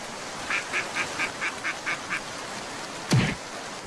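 A cartoon duck quacks eight times in an even, evenly spaced series, followed by a short louder swooping thud; the quacks are moderately loud over a faint background.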